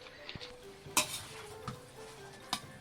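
Beef stir fry with half a lemon squeezed in, stirred in a pan. Metal utensils scrape and clink against the pan in a few distinct strikes over a faint sizzle.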